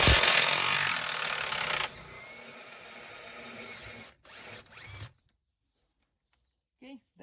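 An impact gun loosens a bolt on a 2014 Kia Sportage 2.0 CRDI front control arm, a loud buzzing rattle for about two seconds, then quieter mechanical clatter and brief bursts before falling silent.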